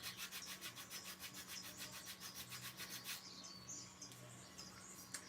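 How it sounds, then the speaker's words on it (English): Wood being hand-sanded in a workshop, rhythmic back-and-forth rasping strokes at a steady pace that stop partway through, with faint birdsong in the background and no talking. "So back to sanding"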